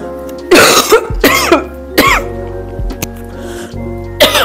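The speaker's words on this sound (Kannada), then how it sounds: "ನೋಡಿ ಈಗ ಮಾತಾಡಿದ್ರೆ ಸಾಕು ಕೆಮ್ಮು ಬರುತ್ತೆ" A person with a cold and blocked phlegm coughs repeatedly at close range, four or five harsh bursts with short pauses and some throat clearing between.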